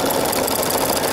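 Embroidery machine stitching a design in cream thread on a rust pumpkin-coloured pashmina scarf hooped with water-soluble mesh, a loud, close, continuous mechanical whir and rapid needle chatter filling the whole moment with no talk.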